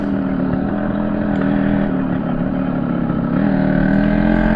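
A classic two-stroke motorcycle ridden over bumpy ground gives a steady, loud, raspy engine drone with slight wavering pitch, heard close from the rider's position throughout.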